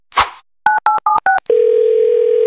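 On a telephone in an animated drama, a click comes first, then five quick keypad beeps in a row, then a loud steady tone that holds to the end.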